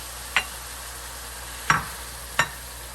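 Stirring shrimp in tomato sauce in a pan, heard as three brief, soft scraping clicks spaced apart over a faint steady background, with no talking.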